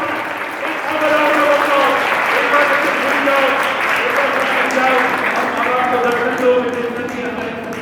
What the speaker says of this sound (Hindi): द कॉलेज टास्क फोर्स के लिए जोरदार तालियां